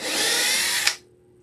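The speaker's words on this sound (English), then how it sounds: "I definitely have to drill a hole because these are bolts." A power drill bores a bolt hole through a wooden base, a loud, steady whine lasting nearly a second before cutting off abruptly into near silence.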